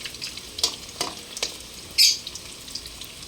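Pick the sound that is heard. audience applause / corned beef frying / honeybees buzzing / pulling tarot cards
corned beef frying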